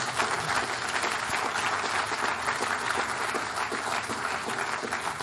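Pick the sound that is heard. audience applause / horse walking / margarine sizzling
audience applause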